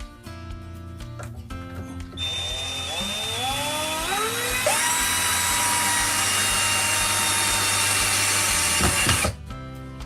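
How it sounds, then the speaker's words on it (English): Power drill whirring as it drives a couple of screws into the wooden roof of a handmade birdhouse, its pitch rising as each screw bites, in two sustained close bursts with no talk. "what I'm going to do now is just going to screw a couple of screws into there"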